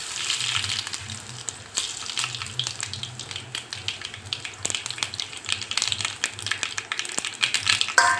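Cumin and mustard seeds tempering in hot oil for peanut chutney, a steady close-up sizzle broken by frequent sharp crackles and pops as the seeds sputter.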